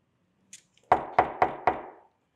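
Four firm, evenly spaced knocks on a wooden door, loud and close, with a faint tap just before them.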